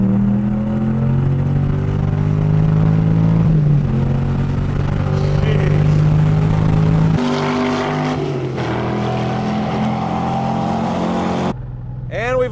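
An LS-swapped car's loud engine roars steadily on a race track, its pitch rising and shifting as the car accelerates and changes gear, with a brief drop-off near the end.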